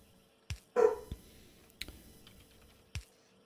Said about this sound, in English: Don't mind the dog.